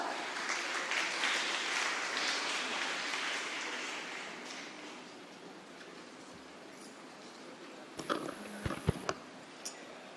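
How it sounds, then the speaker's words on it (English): Applause from an investiture ceremony audience welcoming an incoming school leader: broad, steady clapping that fades gradually over several seconds, followed by a few scattered louder knocks and thuds near the end. "Please welcome her with a huge round of applause."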